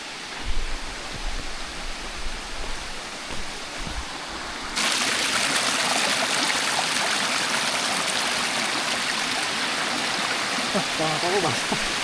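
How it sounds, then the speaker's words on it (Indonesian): A mountain river stream rushing along the Prakasak hiking trail, steady broadband water roar that grows noticeably louder and closer partway through, with faint movement sounds and no clear talking. "Di sini ada sungai yang tidak kalah cantik dari yang tadi"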